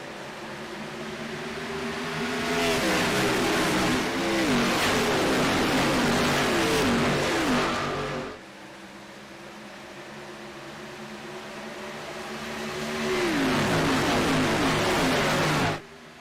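Sim race cars accelerate hard at a restart on the Atlanta Motor Speedway oval, loud rising engine whine with a pack of cars passing close, a brief dip midway, then another surge of revving engines.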